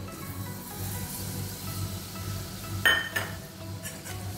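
A spoon stirs date kheer in a pot, a soft bubbling simmer with scraping and a couple of sharp metallic clinks near the end.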